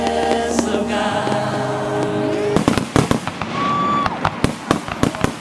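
Fireworks exploding at a year-end island fireworks festival: a rumbling whoosh and hum give way to a rapid string of loud, close bangs and crackling bursts, with a rising whistle among the blasts.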